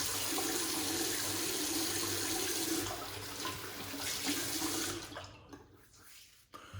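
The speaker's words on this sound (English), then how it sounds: "let's wash off the face and we'll check for slickness" Water runs steadily from a tap into a sink while someone washes their face, a close, continuous rush that thins out and sputters near the end.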